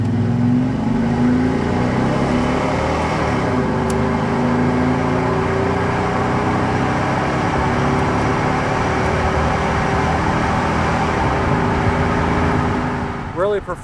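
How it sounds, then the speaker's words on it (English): A 1996 GMC Suburban with its original 5.7 V8 drones steadily through a Flowmaster muffler while driving, a loud continuous exhaust note rising and falling with engine speed. "let's go ahead and listen to that Flowmaster muffler"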